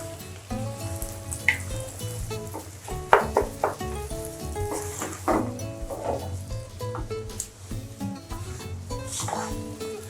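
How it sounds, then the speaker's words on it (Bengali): Rice frying in a pan with turmeric and salt for khichuri, with irregular stirring scrapes and soft sizzling over a steady tonal background hum. "চালটাকে ভাজবো।"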